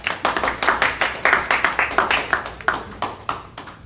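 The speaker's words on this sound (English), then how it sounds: "Another round of applause for Daria." Applause for a poet at a spoken word show: a few nearby hands clapping in quick, distinct, rhythmic bursts, fairly loud and close, with no talking over it.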